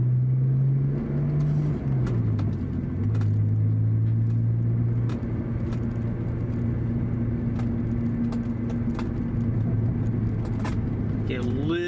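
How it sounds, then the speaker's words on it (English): A BMW 530i's exhaust drones with a steady, deep hum while the car is driven through the gears, with a pitch dip around one shift before it settles into an even cruise. "Get a little bit of a gurgle there when you're letting off the gas."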